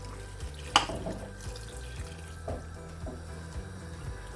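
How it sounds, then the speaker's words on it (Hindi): Water runs from a tap into a cooking pot while a Turkish stew is being prepared, a steady filling stream with a sharp splash near the start and a few soft clunks, close by. "अब इसमें पानी ऐड करेंगे।"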